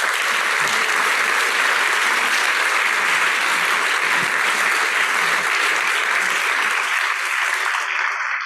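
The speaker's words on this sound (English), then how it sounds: "All the others in the team of the WHS also require a big applause," A large audience at a health policy summit gives a loud, sustained round of applause, dense and steady throughout before tapering off at the very end.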